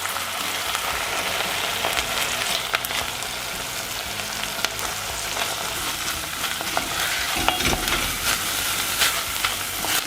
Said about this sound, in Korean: 양파가 반투명해지면 연어를 다 넣고 볶아줍니다.